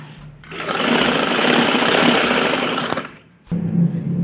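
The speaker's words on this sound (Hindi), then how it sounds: "इसके बिल्कुल बराबर में ये ऑफ वाइट कपड़ा रखेंगे और एक एक पैर के फासले की सिलाई लगाएंगे" A sewing machine stitches off-white fabric for a girls' winter frock, a steady close whirring run of about two and a half seconds, a brief pause, then the motor starting up again.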